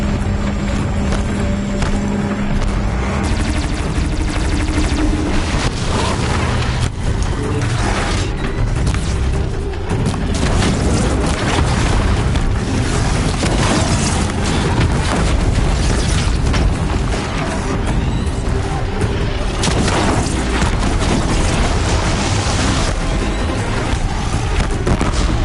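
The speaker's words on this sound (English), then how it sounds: "Watch out for the disc launchers!" Disc launchers in the video game Horizon fire and explode, continuous loud booming blasts and rumbling mechanical noise layered densely throughout, with no talking.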